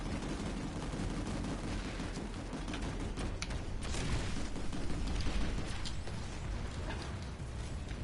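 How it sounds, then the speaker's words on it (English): Rocklet rifle firing in Planetside 2, a dense, continuous barrage of rapid sharp shots and bursts with mechanical clatter, loud and sustained throughout amid battle noise. "With these Rocklet rifles, you have to get pretty close and personal."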